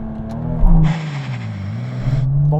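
An 80-series Toyota Supra TRD turbo bogs on a launch: a close, loud engine drone sags in pitch and labours, then climbs again as it recovers, with a hiss of air layered above and no voices.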